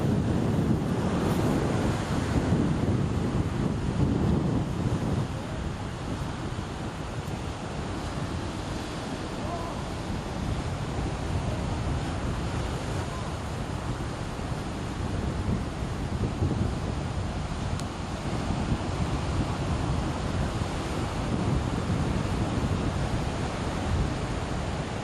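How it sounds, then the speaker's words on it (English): Strong coastal wind roars across the microphone over steady crashing surf on the dunes at Budgewoi, a continuous, loud, buffeting rush that holds for the whole stretch with no clear talk. "Looks as though the wind's strong enough."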